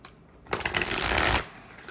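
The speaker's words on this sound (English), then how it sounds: "These cards are a little difficult to shuffle" A deck of tarot cards being shuffled, a quiet pause then a short burst of rapid riffling flutter lasting about a second before settling back to near silence.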